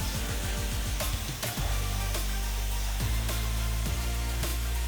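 Hair dryer blowing steadily and close while shoulder-length men's center-part hair is shaken side to side by hand, a continuous loud whoosh with faint rhythmic bumps from the hand movement.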